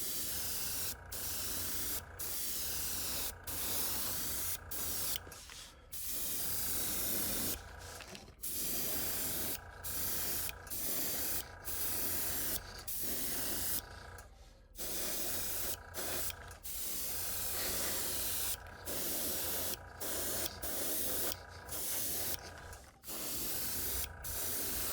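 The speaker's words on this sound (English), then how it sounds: "next we're going with pearlized silver, and I'm gonna, there again, I got some reducer in here, so just spray nice and thin." Airbrush hissing pearlized silver paint thinned with reducer onto a swimbait lure body, steady close bursts of spray broken by short pauses, repeated many times in a row.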